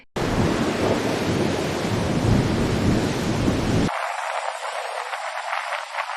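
A strong Eastern Mediterranean storm near the Iskenderun Gulf roars with heavy rain and wind, a dense, loud wash that drops after about four seconds into a thinner, hissing downpour, with no voices.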